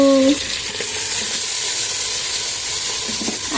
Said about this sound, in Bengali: এখন মাংসগুলো প্রেশার কুকারে দিয়ে দিচ্ছি